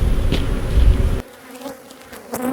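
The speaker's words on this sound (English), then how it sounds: "I see bees with pollen on their legs, so there's something going on in the hive." Honey bees buzz loudly around an open hive in a steady drone that suddenly drops to a quieter hum halfway through, with a few close passes flicking by.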